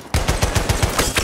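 Rapid automatic gunfire from the video game Battlefield rattles in a loud, close burst of evenly spaced shots lasting just over a second.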